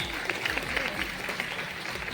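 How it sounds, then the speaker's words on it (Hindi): Applause at an award ceremony for a football tournament, steady crowd clapping that carries on without a break, moderately loud and diffuse, with a voice faintly present underneath. "जोरदार तालियां।"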